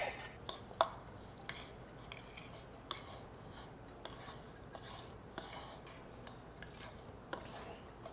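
A saltfish filling with garlic, pepper and tomato is stirred in a bowl, giving quiet, scattered clinks and taps of a utensil against the dish at irregular intervals over a soft, faint background.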